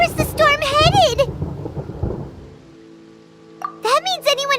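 Rumbling thunder from a storm in Genshin Impact, a low roll swelling in the middle of the clip between stretches of animated character dialogue, with rain-like noise underneath.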